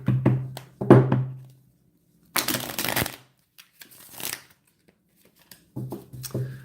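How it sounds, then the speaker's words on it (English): A tarot deck being cut: several crisp card sounds, soft slaps and a brief riffle, with taps and small knocks between quiet gaps, close up. "Now I'm cutting the deck."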